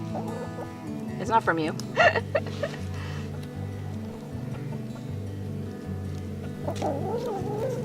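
Chickens clucking in a backyard coop, short bursts of clucks and squawks near the start and again later, with a person speaking over them.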